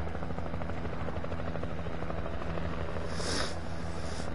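Helicopter in the video game Alan Wake, a steady rotor drone and engine hum holding throughout at moderate level, with a brief hiss near the end and no talk over it.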